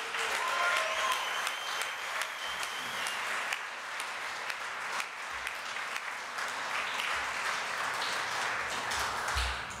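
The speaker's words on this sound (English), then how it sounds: "if we give them a nice round of applause" Conference audience at an addiction summit applauds the sponsors with a full, sustained round of clapping, sharp individual claps popping out of the dense crowd sound, holding steady for about ten seconds, with speech only faintly present.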